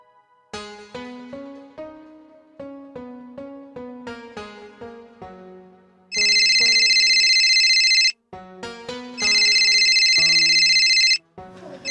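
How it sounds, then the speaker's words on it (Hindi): A mobile phone ringtone plays in two long, loud, bright bursts with a short gap between them, following a plucked melodic tune; no one speaks. "बिटिया का फोन।"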